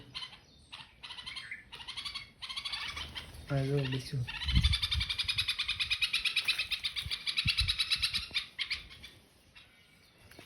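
Bulbul birds near their nest chirp in quick repeated bursts, bright and close, forming a rapid rhythmic twitter across most of the span, with a few brief spoken words and some handling bumps.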